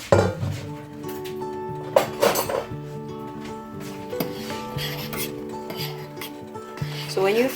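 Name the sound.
stirring basmati rice in a pot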